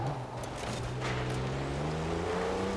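A Mercedes E-Class estate driven hard on a rally stage in Forza Horizon 4, its engine droning steadily and rising slowly in pitch as it accelerates, close and continuous.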